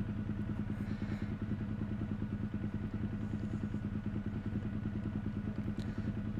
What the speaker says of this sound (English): Kawasaki Ninja ZX 12R